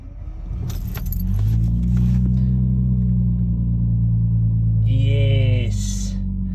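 A Lexus IS200 running a standalone ECU cranks briefly after a jangle of keys, then catches and settles into a steady low idle rumble, with a short blip of engine speed near the end.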